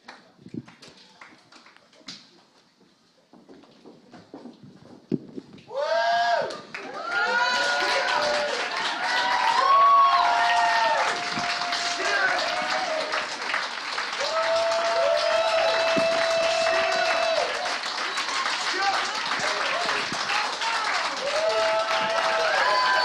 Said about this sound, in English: give them one last round of applause and they can take a bow